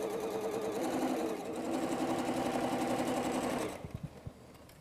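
A sewing machine runs fast and steady while quilt blocks are stitched together, its buzzing motor and rapid needle chatter holding close and loud for several seconds before stopping with a few soft clicks.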